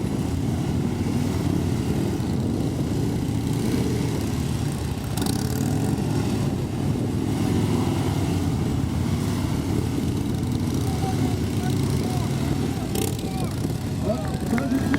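A police motorcycle engine idles and putters during slow-speed maneuvering drills, a continuous low rumble with slight throttle variations beneath talking voices.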